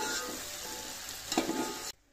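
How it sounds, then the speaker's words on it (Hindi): Mixed vegetables fry with pulao masala in a pan, making a continuous close sizzle with a brief clatter of stirring near the end before it cuts off, and no voices. "सब्जियां हमारी हो गई हैं फ्राई अच्छे से मसाले के साथ।"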